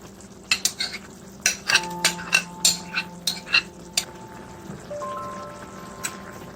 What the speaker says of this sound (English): we're going to fold in the cheese